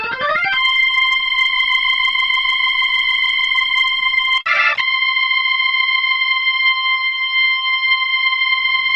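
A Hammond-style organ (HX3 / SKX Pro) with chorus effect holds bright sustained chords. The sound is shimmering and loud, with a short break and a re-struck chord partway through.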